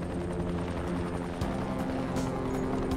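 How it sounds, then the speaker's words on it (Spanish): A helicopter in the video game Dying Light thrums steadily in the background, a continuous low rotor drone with no talk over it. "El helicóptero."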